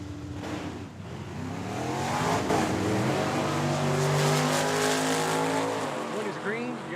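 A 1970 Camaro and a station wagon launch side by side at a drag strip, engines roaring and revving hard, tires squealing as they pull away, with an announcer talking over the din.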